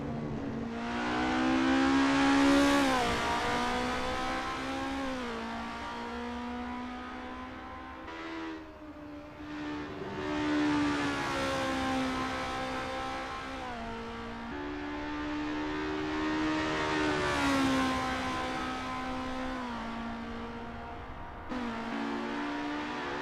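Formula race car engine tones from a racing game at Zandvoort rise and fall as cars rev repeatedly during warm-up, the pitch climbing in long sweeps between gear shifts.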